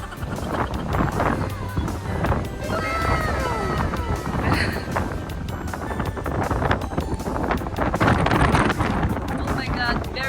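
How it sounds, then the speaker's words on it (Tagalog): Strong wind buffets the microphone outdoors in Bohol countryside near a Mount Fuji–named spot, a steady loud rumble and roar throughout with people talking over it. "very strong wind here"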